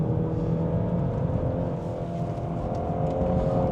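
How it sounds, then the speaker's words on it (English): VW Golf 8.5 R with automatic gearbox under way, a loud steady engine drone and road roar from inside the car, with the gearbox shifting on its own and no talking. "Only the car is shifting."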